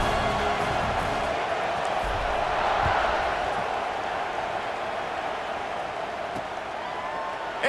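A large stadium crowd roars in EA Sports College Football 26, a broad sustained wash of cheering and noise that stays loud and steady throughout with a faint voice mixed in.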